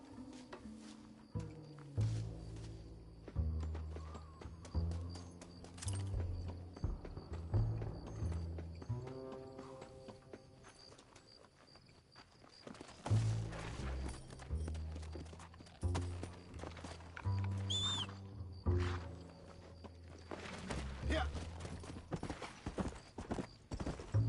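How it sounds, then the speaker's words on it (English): Horse hooves clip-clop at a walking pace in the video game Red Dead Redemption, with irregular hoof beats on ground that come and go and a brief whinny-like sound, all at a moderate distance. "Quick, find us a horse."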